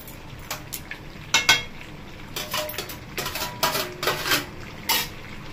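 Mutton, potatoes and fried onions are stirred in a pot, with a spoon repeatedly scraping and clanking against the metal sides in irregular close bursts over a soft sizzle.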